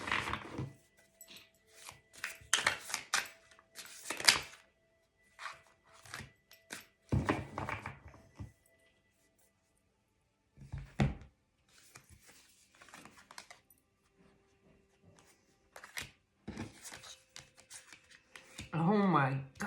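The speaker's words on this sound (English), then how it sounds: "Let me just shuffle it up." A tarot card deck being shuffled by hand, bursts of riffling and tapping cards in irregular clusters separated by quiet gaps, close and fairly faint, with someone talking intermittently between the bursts.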